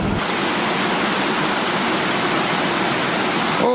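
Waterfall in Martvili Canyon, Georgia, a dense, steady roar of falling water close by, unbroken and loud throughout with no voices.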